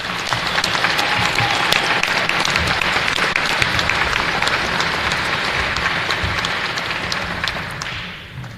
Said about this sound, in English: So I invite you one more time to provide them a hearty round of applause.